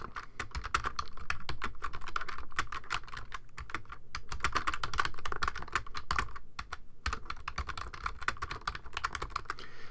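Rapid, continuous clicking of keys on a computer keyboard as text is typed, close and steady with no voice over it.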